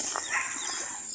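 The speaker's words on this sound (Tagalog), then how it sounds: "So yun yung mga inahin natin" Mother hens cluck softly at dusk on a backyard chicken-raising setup, with faint, low calls and a few short chirps over a steady hiss of background noise.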